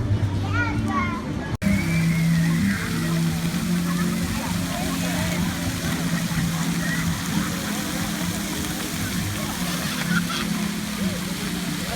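A water fountain in a park in Mexico rushes with a constant splashing roar, close and loud, while children and adults talk over it.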